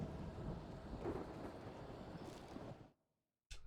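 A thunderstorm in the Alan Wake video game rumbles with heavy rain and low thunder, a steady loud wash that cuts to silence near the end before briefly returning.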